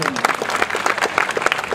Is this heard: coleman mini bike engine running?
no